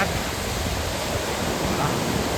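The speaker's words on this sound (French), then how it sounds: "là, vous avez des cascades." Cascade de Coo waterfall in Belgium roars as a constant broadband rush of falling water, loud and steady with no breaks or voices.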